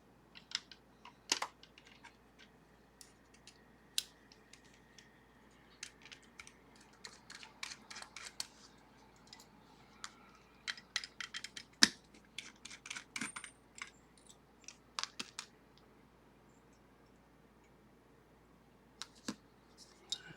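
Small metallic clicks, taps and light rattles of an S&G 4440 safety deposit box lock being taken apart to reach its levers, close and quiet, coming in irregular bursts with short pauses and no talking.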